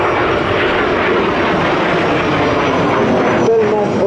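An F-86 Sabre jet flies at an airshow in Paris, producing a loud continuous engine roar throughout, with an announcer talking over it.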